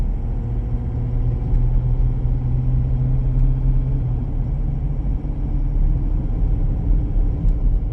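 A lifted 2018 Ford F-250 Super Duty Lariat truck driving with smooth gear shifts: steady, loud low engine rumble and road drone heard from inside the cab, continuous throughout with no voices.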